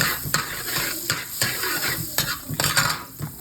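Garlic frying in butter for a mussel dish while being stirred in a pan, a continuous sizzle with repeated scraping and clinking strokes of a utensil, close and clear.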